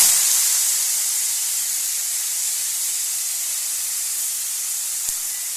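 Cauliflower dropped into hot mustard oil with whole cumin, a loud, dense hissing sizzle that starts strongest and settles into an even, slightly fading roar, with one faint tap near the end.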